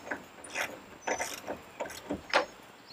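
Fishing rod holders are tightened on a front boat rail, a quick series of about six short ratcheting clicks and metallic scrapes, close and fairly quiet.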